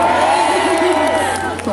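An audience at an outdoor temple music concert cheers and shouts loudly in a sustained, dense burst of crowd noise that tapers slightly at the end.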